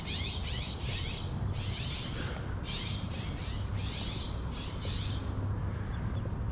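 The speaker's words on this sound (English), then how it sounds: "A lot of birds in the trees there." Many birds chirp and call in trees beside a park fitness center, a dense, steady chorus of bright bursts over constant outdoor background noise.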